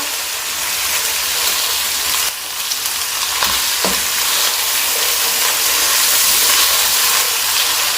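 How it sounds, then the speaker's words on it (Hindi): Loud, constant sizzling of ginger garlic paste frying in a hot pan, with stirring and a couple of brief scrapes of a spoon throughout. "लहसुन अदरक के पेस्ट को साथे करेंगे।"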